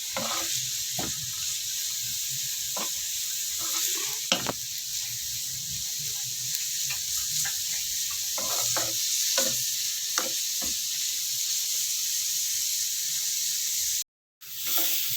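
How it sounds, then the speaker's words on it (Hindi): Carrots frying in oil in a pan for spring roll filling, a steady close sizzle and hiss throughout, with occasional scraping stirs and clicks, then a brief cut of silence near the end. "इसमें गाजर डाली है, 2 मिनट इसको मैं फ्राई करूंगी"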